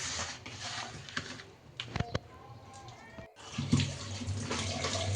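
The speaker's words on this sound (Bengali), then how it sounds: "আলু মূলাটা আমি ধুয়ে নিচ্ছি।" Potatoes and radish being rinsed under running water in a home kitchen, a steady splashing wash with a few sharp knocks, one brief pause, then the flow resuming fuller.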